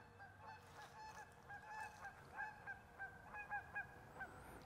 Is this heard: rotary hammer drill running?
no